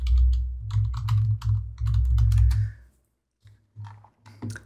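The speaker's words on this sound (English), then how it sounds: "my keyboard is really clicky" A clicky computer keyboard is typed on up close in loud, rapid bursts of sharp key clicks with a brief pause before a few more presses, no voices.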